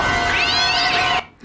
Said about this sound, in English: the cat's mouth was closed while the meowing was still going